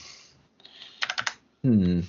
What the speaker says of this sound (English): I'll let you type it up rather than two of us bashing the keyboard.